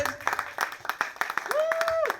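An audience at a small band concert claps in a brisk, scattered burst of applause, with voices and a rising whoop or cheer mixed in near the end.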